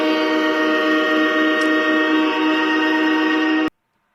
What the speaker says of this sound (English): you get that Bills train horn